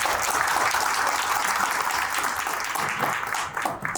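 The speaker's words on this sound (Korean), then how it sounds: "박수로 맞이해 주시기 바랍니다." An audience at a 20th-anniversary ceremony applauds to welcome a pastor to the stage, a dense, steady wash of clapping at close range that thins slightly near the end.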